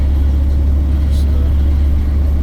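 A car driving along with its engine running, a loud, steady low rumble from inside the vehicle that continues unbroken for the whole stretch.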